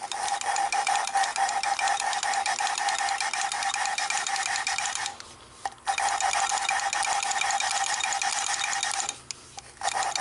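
A valve lapping tool grinds a valve seat in a 1948 Nash engine: steady scraping, grinding mechanical rasp with a ratcheting quality, continuous and fairly close, broken by two brief pauses where the strokes reverse.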